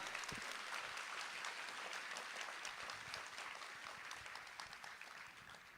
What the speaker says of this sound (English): Let's give ourselves a big round of applause for making it through all the ups and downs.